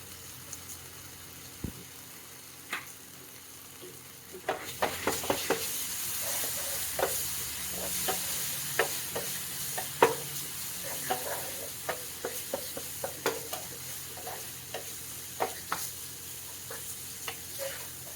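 Anchovies frying in a pan, a steady soft sizzle that swells partway through as the pan is stirred, with scattered clicks and scrapes of a spatula against the pan, close and without talk.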